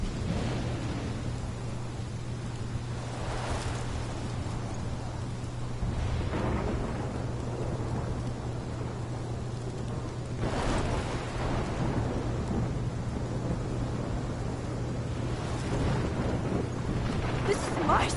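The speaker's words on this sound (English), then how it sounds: "This is my storm." Thunderstorm in Life is Strange: steady heavy rain and wind noise with several deep rolling thunder rumbles swelling at intervals, loud and continuous, with a low steady hum beneath and no talk.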